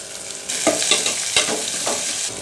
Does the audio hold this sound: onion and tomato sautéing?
yes